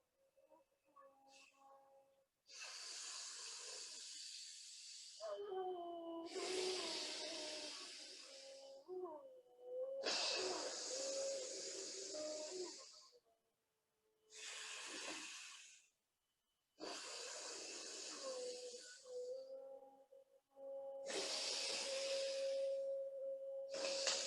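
Yogic alternate-nostril breathing: a series of long, close, airy nasal inhales and exhales, each a soft hissing rush of breath several seconds long, separated by brief pauses, with faint humming tones under some breaths.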